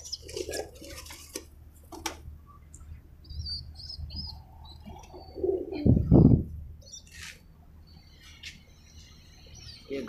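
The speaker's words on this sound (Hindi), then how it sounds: "ये गंजा कबूतर, ये तो अपने गेट के अंदर चला गया।" Pigeons on a rooftop setup in strong wind give soft low coos and chirps between scattered clatter, with a louder burst of noise near the middle, and no voices.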